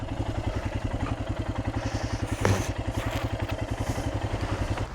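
A small Honda motorcycle engine idles nearby with a steady, even, thumping pulse and one brief clatter partway through.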